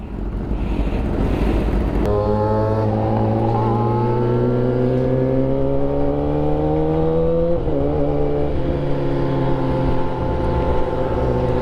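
Yamaha R6 sports bike engine revving close by, a loud rising high-pitched whine that climbs steadily through the gears, drops briefly, then climbs again and holds steady.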